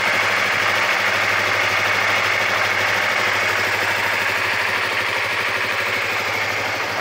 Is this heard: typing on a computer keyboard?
no